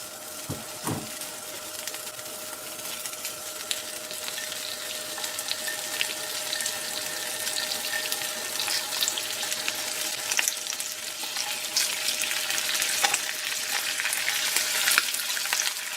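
Lobster and shrimp stuffed calamari sautéing in a cast iron ovenproof pot, a dense continuous sizzle and spatter that grows slightly louder over time, with a couple of brief knocks near the start.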